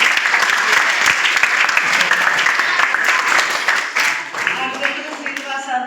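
A group of people applauds together at a gathering, giving sustained dense clapping that fades slightly toward the end, with voices mixed in.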